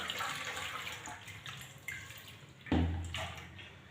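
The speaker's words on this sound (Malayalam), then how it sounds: "അതിനുശേഷം നമുക്ക് വെള്ളത്തിൽ നിന്ന് കഴുകിയെടുക്കാം" Water splashes and runs while a brass oil lamp is rinsed clean, a steady trickle building to a louder, closer gush of pouring water near the end.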